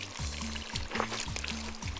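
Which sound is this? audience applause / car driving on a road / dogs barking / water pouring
water pouring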